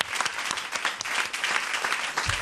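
A live French radio studio audience applauds after a singer's performance, a short burst of dense, steady clapping from a small crowd at close range.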